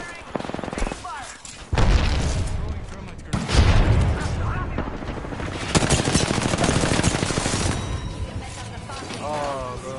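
Heavy bursts of gunfire from an online shooter game crackle loud and close, with dense rapid volleys and booming shots over roughly ten seconds, while excited players talk over the action.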